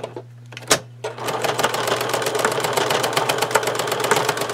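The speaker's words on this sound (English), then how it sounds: "I'm just going to go ahead and keep sewing" A sewing machine stitches fabric for a bag, a steady fast mechanical clatter that starts after a brief click and hum and runs continuously up close, no talking.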